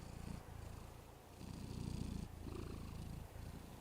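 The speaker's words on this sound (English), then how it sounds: "He purrs when he's happy" A pet cat purring steadily after being fed, a close, low rumbling purr in rhythmic cycles with brief pauses between breaths, no voices over it.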